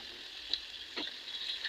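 Ginger-garlic paste and green chilli paste sizzle in a pan, a soft, steady frying hiss with a few faint stirring scrapes, close and quiet with no talking.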